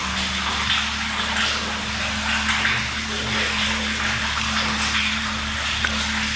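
Steady water sounds inside a dark cave form a continuous rushing wash with a low constant hum, unbroken and moderately loud throughout.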